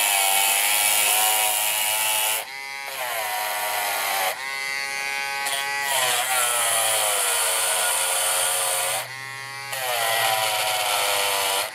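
A Dremel rotary tool fitted with a brass brush whines at a high pitch in bursts of several seconds, its speed dipping briefly between runs, close and alone without talk.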